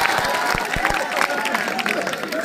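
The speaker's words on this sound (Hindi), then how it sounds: "कहते हैं तो एक बार ताली बजा के बताइए आप" An audience at a village poetry gathering in West Champaran claps in a loose, scattered burst, with a few sharp nearby claps over a steady murmur of crowd noise.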